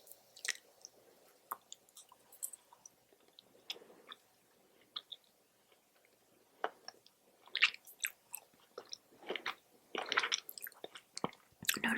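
Soft, close chewing of a single raisin in a quiet room, with scattered moist clicks and squishes that grow denser and louder toward the end, no talking.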